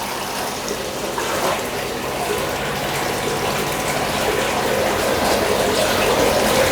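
Two litres of water full of live brine shrimp being poured out into a koi fry tank, a steady splashing gush of liquid that runs continuously and grows slightly louder toward the end, with no talking.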